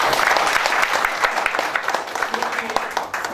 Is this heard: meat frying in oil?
no